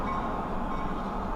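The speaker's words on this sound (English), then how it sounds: "that is the Lehigh Gorge Scenic Railway 1 o'clock train coming back in" Lehigh Gorge Scenic Railway excursion train rolling back into the station, a steady low rumble of wheels and cars holding even and fairly near without pause.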